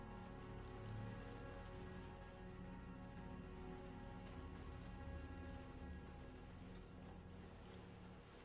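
Heavy rain in the Cataclysm DDA video game hisses as a steady, dense wash that never lets up, with no voices over it.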